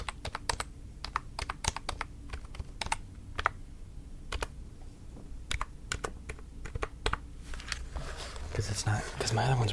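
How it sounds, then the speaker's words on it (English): Typing on a computer keyboard with a softer, less clicky action, close and crisp, with irregular bursts of keystrokes across the whole stretch and a brief rustle near the end. "Now this isn't as clicky as my other keyboard"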